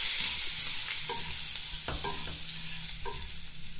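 Garlic with paprika and salt frying in oil in a pan gives a steady broadband sizzle, with a few brief stirring scrapes and clinks over the hiss and no voices.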